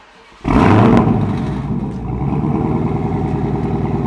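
A Dodge Charger Hellcat Redeye with a Borla catback exhaust fires up with a sharp, loud roar. Its supercharged engine then drops to a deep, burbling idle, heard close.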